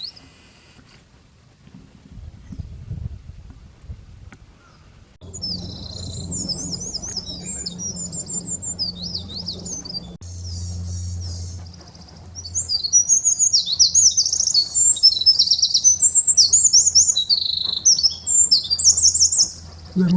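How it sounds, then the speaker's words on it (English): Wren song played back as birdsong playback on a hike on Mt Oumuro: bright, rapid trilling and chirping phrases begin after a few seconds and continue, growing louder toward the end, over a low outdoor rumble. "Little wren."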